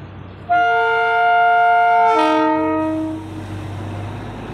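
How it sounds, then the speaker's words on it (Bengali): Darjeeling Himalayan Railway toy train sounding a loud, close, sustained horn blast that shifts pitch midway and fades, over a low rumbling engine drone. "আমরা দেখছি এখন ট্রেনটা আসছে"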